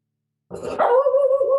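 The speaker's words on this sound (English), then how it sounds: "That's my dog." A pet dog gives a single close, loud bark that stretches into a short whining howl, heard alone indoors.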